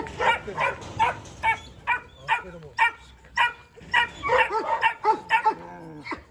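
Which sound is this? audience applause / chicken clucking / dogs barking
dogs barking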